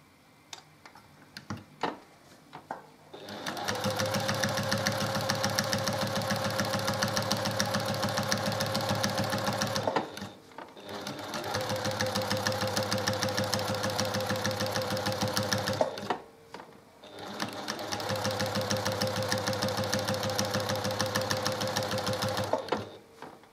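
A sewing machine stitches along either side of a quilt seam in three long steady runs of rapid mechanical ticking, close and even, with brief pauses between them and light handling clicks at the start.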